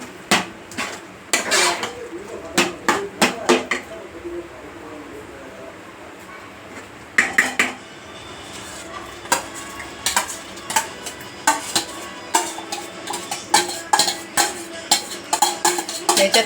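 A spatula clanks and scrapes hard against a pan while pav bhaji vegetables like cabbage, beetroot, cauliflower and carrot are mixed. The strokes come in quick irregular bursts with short pauses, close and loud over low background noise.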